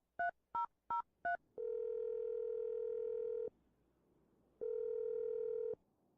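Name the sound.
telephone dial tone and number dialing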